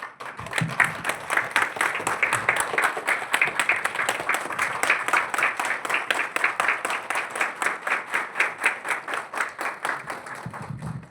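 A group claps together for a new Hyundai car, steady applause running the full length with a rhythmic, slightly accelerating beat, loud and close, with no talk over it.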